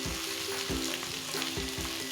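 Beef boti kabab pieces sizzle loudly on a hot tawa in a close, continuous frying hiss, with a few soft thumps and scrapes as they are turned, and no talking.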